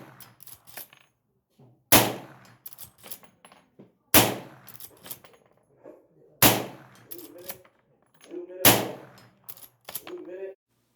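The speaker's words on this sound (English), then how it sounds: "here is a clip of the other 5 rounds I loaded up, hitting some steel at 100 yards" .223 rifle firing 55-grain rounds at steel targets 100 yards away: five sharp, loud cracks a couple of seconds apart, each followed by a short echo and faint ringing, with brief murmurs between shots.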